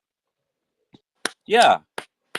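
A few sharp, separate hand claps ring out close by at irregular intervals, with someone briefly speaking between them.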